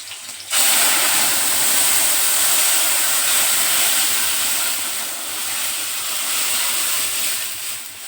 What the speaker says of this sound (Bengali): বন্ধুরা ডাল কিন্তু ফুটছে